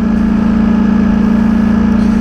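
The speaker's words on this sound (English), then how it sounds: "Listen to that exhaust, it's just wicked." A loud, steady streetfighter motorcycle exhaust rumbles at idle, a deep continuous throb with no pauses.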